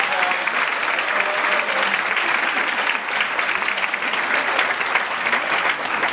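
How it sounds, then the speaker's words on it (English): An audience at a school funding announcement applauds, dense and loud clapping from a large crowd that stays constant and continuous from start to finish, with no voices above it. "Let's give Alan Fagan a big round of applause."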